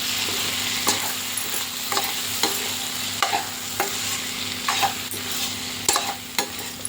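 A spoon stirs a cucumber and tomato curry in a pan, sharp scraping strokes about once a second over a steady low sizzle, close and alone without talk.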